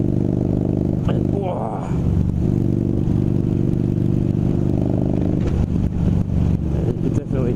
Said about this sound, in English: you can definitely hear that exhaust.